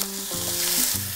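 Nopales, chopped cactus paddles, frying in a little oil in a pan for a Mexican omelet filling, a loud steady sizzle with a few soft stirring scrapes, close up and with no talk.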